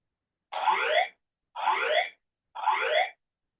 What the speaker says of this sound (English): An alarm has been activated in the building.